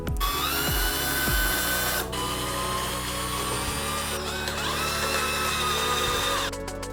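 A power drill whines steadily into wood while building a bathtub caddy, one long loud run with brief dips in pitch and a few knocks near the start.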